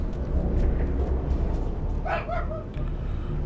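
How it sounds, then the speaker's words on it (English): A dog gives a few short yelping barks just outside a door, muffled and fairly close, standing out briefly over a steady background hum. "there was a little bit of a dog barking right outside my door"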